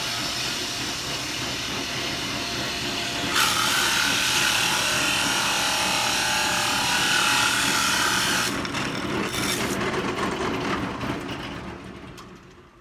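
A hole saw bores through wood to cut a wooden bow washer, giving a loud, continuous grinding rasp that shifts in tone as it bites, then winds down at the end.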